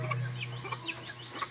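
Chicken clucking in a few short, soft calls, fairly close and alone.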